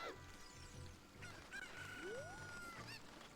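Cucco chickens cluck and squawk in Zelda: Ocarina of Time. There are a few short, faint game-sound calls and a rising tone over quiet background, with no talk.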